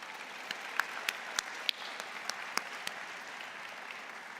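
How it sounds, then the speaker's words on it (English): Steady applause from a convocation audience honoring professors and staff, a dense continuous patter of many hands with a few sharper individual claps standing out, held at an even level throughout. "give a round of applause for your professors and the staff who helped you get here today"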